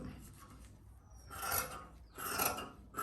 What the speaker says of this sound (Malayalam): ഈ ഒരു പാർട്ട് കട്ട് ചെയ്യാം.